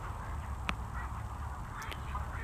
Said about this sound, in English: Okay, these ducks are not very talkative. I hear a bunch of quacking, but that's about it.